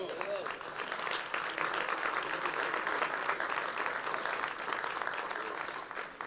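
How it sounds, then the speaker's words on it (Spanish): A church congregation breaks into applause during a sermon, a fairly steady, moderately distant clapping with scattered voices mixed in. "eso se merece aunque sea un aplauso"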